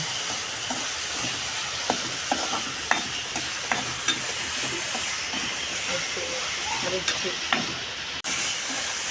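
Onions crackle and sizzle in hot oil for an egg curry while a spoon stirs them round the pan, giving a steady frying hiss broken by frequent sharp scraping clicks, with no talk.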